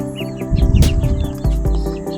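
A large white stag chicken in a backyard flock gives loud, close clucks and crowing calls, with other birds chirping around it in short repeated bursts.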